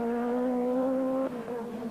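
Peugeot Group B rally car, reportedly around 600 horsepower, racing flat out on a San Remo 1986 rally stage. A loud, steady, high-revving engine drone holds for over a second, then dips sharply as the driver lifts or shifts, and the engine note picks back up.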